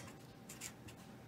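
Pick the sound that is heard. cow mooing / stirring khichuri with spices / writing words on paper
writing words on paper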